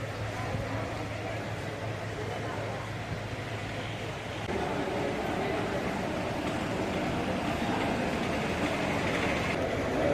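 Ernakulam–KSR Bengaluru Intercity train arriving at Palakkad Junction, a steady rumble and rolling rail noise that grows louder halfway through and continues as the train pulls along the platform, with no talk over it.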